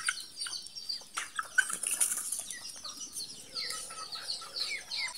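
Backyard chickens in Masbate, Philippines cluck and chatter close by, with brief wing flaps and scattered bird calls over a busy outdoor background.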